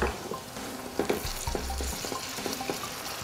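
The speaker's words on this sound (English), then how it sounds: "They're gonna fry up real fast" Sliced eggplant frying in hot oil for a Turkish rice dish, a steady close sizzle with occasional crackles and light pan clatter, no voices.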